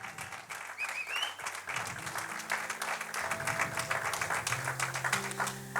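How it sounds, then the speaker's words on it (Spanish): A church congregation claps for Christ, a soft, fairly distant patter of many hands that holds steady throughout, with sustained organ or keyboard tones underneath. "Dele un aplauso a Cristo."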